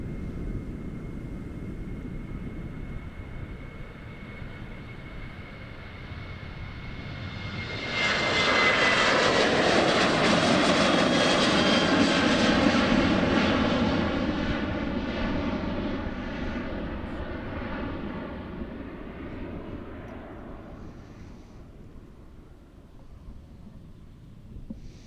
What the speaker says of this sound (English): Departing from Amsterdam Schiphol Airport on runway 36 left,